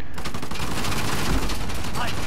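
Rapid gunfire in the action video game Uncharted: The Lost Legacy, a dense continuous volley of loud shots rattling without pause through the whole short burst.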